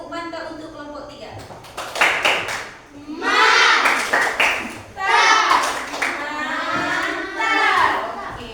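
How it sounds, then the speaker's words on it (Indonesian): Children in a classroom burst into bursts of rhythmic group clapping for group 3, loud close patterned claps in several waves mixed with kids' shouting and chatter. "Kasih tepuk mantap untuk kelompok 3."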